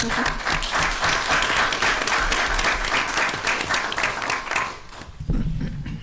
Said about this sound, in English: she really deserves another round of applause